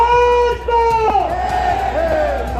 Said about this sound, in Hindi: जंतर मंतर पर कांग्रेस की दलित इकाई की तरफ से हुए इस हल्ला बोल कार्यक्रम में सरकार के खिलाफ जमकर नारेबाजी हुई